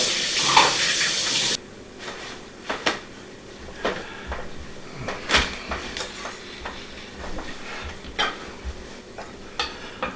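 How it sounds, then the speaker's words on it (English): Kitchen sink tap runs loudly for hands being washed, then cuts off, followed by scattered clinks and knocks of dishes and utensils around the kitchen. "let me wash my hand"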